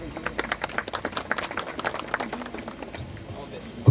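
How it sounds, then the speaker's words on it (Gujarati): Clapping from a crowd at a Vishva Hindu Parishad welcome gathering in Viramgam, with dense, uneven claps that keep going steadily throughout and a loud knock or thump at the very end. "આપણે જોરદાર તાળીઓથી એમને વધાવી લઈએ."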